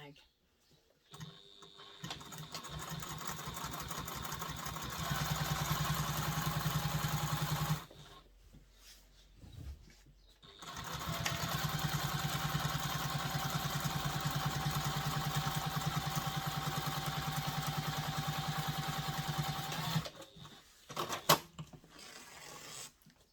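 Sewing machine top stitching a large diaper bag, running in two long steady whirring stretches separated by a short stop, close and even, with a brief voice at the end.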